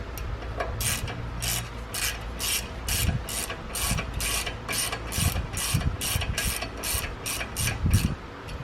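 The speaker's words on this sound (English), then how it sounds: "we're going to put that set screw in there and snug that up" Rapid ratchet clicking while a set screw is tightened to hold the front brake rotor on a 2015 Jaguar XE, a close, steady run of about twenty even clicks over a low background rumble.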